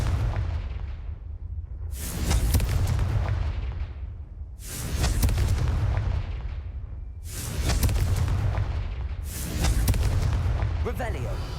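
Confringo blasting curse in the Hogwarts Legacy video game, four loud explosive booms spaced a couple of seconds apart, each with a crackling roar that decays before the next blast.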